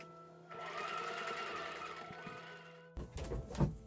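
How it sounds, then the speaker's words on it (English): A sewing machine stitches a fabric face mask in a steady whirring run, then stops, followed by a few close thunks and handling knocks. "you sew in the middle first, and then you put the string in, and then you sew the sides"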